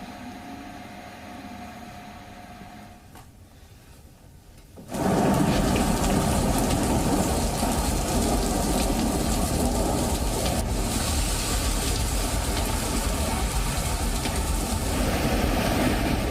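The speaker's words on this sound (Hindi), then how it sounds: "मिचोंग तूफान की वजह से लगातार बारिश भी हो रही है" Heavy rain from Cyclone Michaung pours down in Chennai, a dense, loud, steady roar that starts after a quieter few seconds of softer rain and continues without a break.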